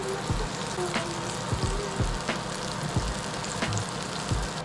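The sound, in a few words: crab relleno frying in oil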